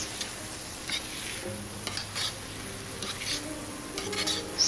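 Garlic scapes and potato strips are stir-fried with oyster sauce in a pan, a steady sizzle with repeated scraping stir strokes and occasional utensil clinks, close and fairly quiet.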